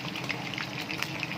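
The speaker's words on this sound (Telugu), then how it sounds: "అందుకే కొద్దిగా ఫ్రై అవ్వాలి." Chicken 65 frying in hot oil, a soft, steady sizzle with scattered crackling pops, heard faintly and alone.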